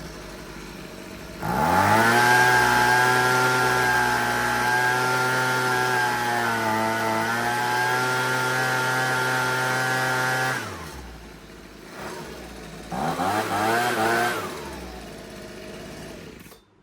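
Husqvarna 125B leaf blower engine running steadily at high, even revs while its carburetor is adjusted, then dropping to a lower speed and briefly revving again, loud and close with no talk.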